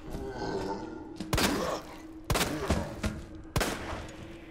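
Three sharp gunshots from Resident Evil 2, each a loud, sudden burst spaced about a second apart over a steady rumbling game background.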